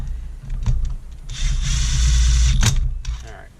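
Hand tools working cylinder bolts on a Farmertec G660 chainsaw build, with short scraping clicks and a sustained ratcheting rub mid-clip, close and moderately loud, a voice briefly in between.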